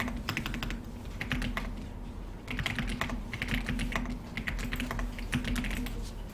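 Someone types quickly on a computer keyboard in an office-software lesson, the dense clicking keystrokes coming in bursts with short pauses, close and clear over a low room hum.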